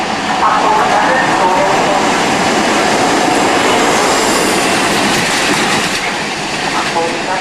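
A Virgin train at a platform of Crewe railway station gives a loud, steady rumble and rolling rail noise close by, holding throughout with a faint clatter.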